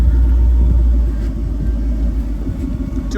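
Off-road vehicle crawling forward in first gear, double low, on hand throttle, with a 117 to 1 crawl ratio: a steady, loud low engine rumble, close and constant, with faint clicks above.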